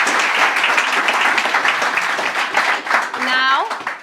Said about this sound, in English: can we please have a warm round of applause for the One Voice Awards host